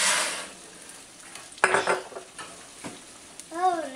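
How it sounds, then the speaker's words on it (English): Bow tie pasta and meatballs being stirred in a sizzling pan, with steady frying hiss and a few scraping clinks of a utensil against the pan, close up. "stir it up, Ty."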